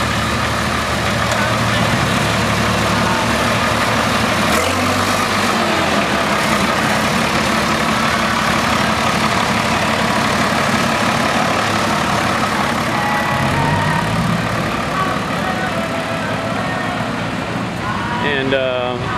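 Bayless tractor engines idling at the Red Power show produce a steady, loud, low mechanical rumble throughout, with outdoor crowd noise and faint talk mixed in.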